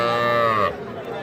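A Sahiwal heifer calf lets out one loud, close moo lasting under a second before it breaks off, leaving faint background noise.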